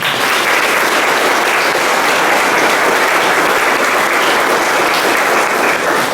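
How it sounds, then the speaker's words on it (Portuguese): Congregation at a São Pedro patron saint celebration in the Barreiros community church applauding heartily, a thick, continuous wall of clapping from many people, loud and unbroken from start to finish, with no one speaking. "também com uma salva de palmas"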